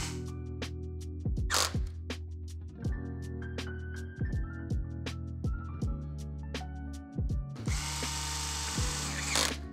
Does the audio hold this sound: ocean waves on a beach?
no